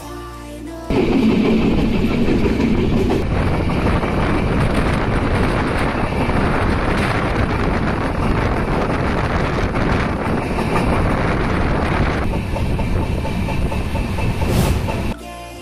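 A passenger train rolls along the rails on the Natore to Dhaka line, a loud continuous rumble with rattling carriage noise and wind buffeting close to the microphone.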